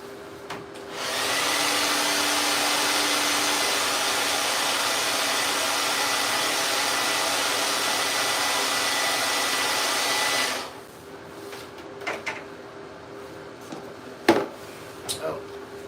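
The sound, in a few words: blow drying the sprayed repair coat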